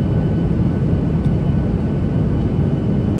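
A steady, loud roar of an airliner painted with Pikachu livery, a continuous low whooshing drone that holds evenly throughout without any voices.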